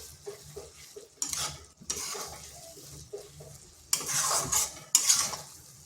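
Maggi noodles being stirred in a pan to dry them out, with repeated scraping and clinking of a utensil against the metal and a soft sizzle underneath, in short uneven bursts close by.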